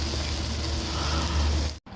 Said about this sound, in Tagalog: Lagyan natin ng barbecue sauce. Kumukulo-kulo.